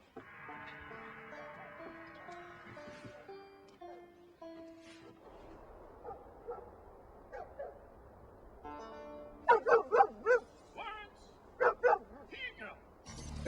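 A dog in a horror film scene with an old man barks in a quick cluster of sharp, close yips after a stretch of soft tonal music, then gives a couple more barks.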